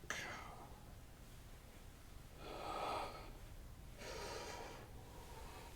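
Slow yoga breathing, drawn in and out through the nose in three soft, airy waves, quiet and close against a faint hiss.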